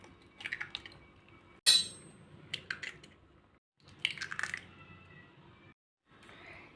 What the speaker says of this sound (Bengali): প্রথমে একটা বাটিতে আমি ডিমগুলো ফাটিয়ে নেব।